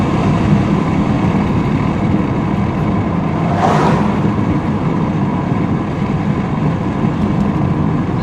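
A 1987 Toyota Camry cruising at about 45 mph, heard from inside as a steady loud drone of engine and road noise with a brief whoosh partway through, no talking.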